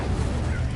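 In the video game Hogwarts Legacy, the Incendio fire spell goes off as a short, dense burst of roaring, crackling noise, loud and close.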